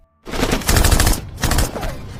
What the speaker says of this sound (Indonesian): terjadilah tembak-tembakan